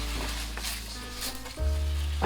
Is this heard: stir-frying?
yes